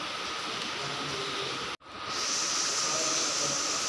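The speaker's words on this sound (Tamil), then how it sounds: "இப்போது அந்த வாத்துக்கறி நல்லா கொதிக்குது" Duck curry boils in a pot, giving a steady, close bubbling hiss that drops out briefly midway before resuming at the same level.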